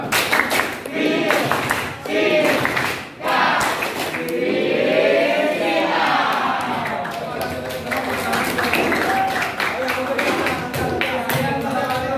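A school physics class at SMA Negeri 1 Mataram claps in a rhythmic chant pattern, bursts of clapping repeating in quick sequence while voices chant along.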